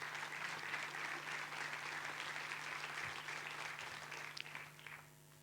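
A church congregation applauding, steady crowd clapping that carries on evenly, then breaks into a few scattered claps and fades out near the end.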